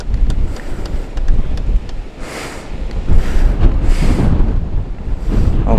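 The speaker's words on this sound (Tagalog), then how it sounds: "grabe yung hangin." Strong wind roars and buffets the microphone at a campsite in Dayhag, in loud, continuous gusts, with occasional hissing surges rising above the rumble.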